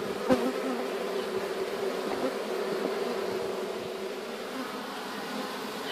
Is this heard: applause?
no